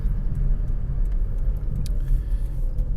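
Steady low road rumble fills a moving car's interior, with a continuous engine and tire drone and a few faint rattles on top.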